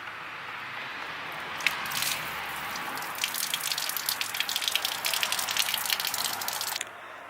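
Water pours steadily from the hot and cold drain lines of a camper being winterized, a continuous splashing gush with scattered drips that swells midway and then cuts off near the end.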